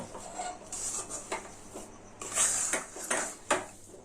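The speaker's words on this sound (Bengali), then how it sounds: "এবার এই চালের গুঁড়োটা ভালোভাবে মিশিয়ে নেব" Soft scraping and clinking in a bowl as roasted rice flour is mixed, a few irregular strokes and taps against a quiet background, no voices.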